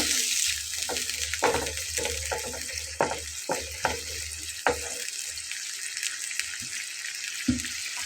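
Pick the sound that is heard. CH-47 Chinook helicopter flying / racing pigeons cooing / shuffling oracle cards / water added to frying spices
water added to frying spices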